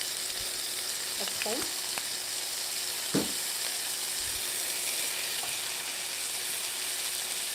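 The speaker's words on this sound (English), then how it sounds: "I'm going to add some white wine vinegar to my onions so they start shrinking." Onions frying in a pan with white wine vinegar added give a steady, even sizzle throughout, with a few brief clinks and a short knock partway through. A voice speaks briefly over it.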